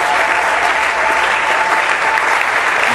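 A church congregation applauding for Jesus, steady loud clapping from a large crowd that fills the whole stretch without pause.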